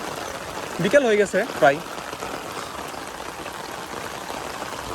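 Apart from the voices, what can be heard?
heavy rain falling on water while fishing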